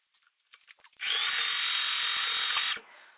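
A sewing machine stitches together a fabric face mask with its elastic loop tucked inside, running as a loud, steady, continuous whir for almost two seconds after a few soft handling taps, then stopping abruptly.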